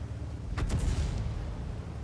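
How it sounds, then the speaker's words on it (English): Artillery shell fire in the tank battle game World of Tanks, coming from friendly artillery: one deep, heavy boom with a rumbling tail, loud and close, with no voices over it. "there's a shot at me from our own artillery"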